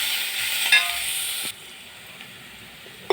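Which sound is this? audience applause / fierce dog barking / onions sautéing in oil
onions sautéing in oil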